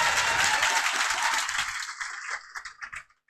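An audience applauds to welcome a guest, a dense burst of clapping that thins out into a few scattered claps before stopping.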